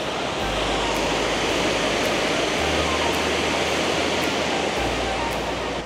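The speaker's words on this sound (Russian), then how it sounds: "Водопад Алексшупете, который находится в Колдыге, считается самым высоким водопадом в Латвии." Aleksupite waterfall in Kuldiga, Latvia, roars as a steady, dense wash of falling water, loud and close, with a deep low rumble that shifts slightly in strength throughout.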